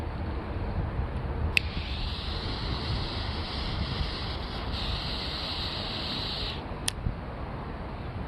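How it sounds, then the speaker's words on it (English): Strong outdoor wind roars steadily with heavy low buffeting against the microphone, a constant close rush throughout, with a couple of brief sharp clicks and no talking. "it is stupidly windy out here"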